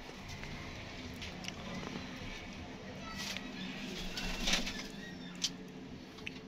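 Pigeons kept by a fancier, soft intermittent cooing and faint bird calls in an open yard, with scattered light knocks and shuffling, fairly quiet and distant-sounding.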